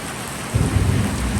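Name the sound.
rain falling on corrugated iron roof sheets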